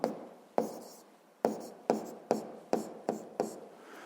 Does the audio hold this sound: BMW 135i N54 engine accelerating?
no